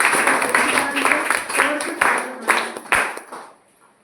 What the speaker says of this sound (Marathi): सगळ्यांनी जोरदार टाळ्या वाजवायच्या आहेत.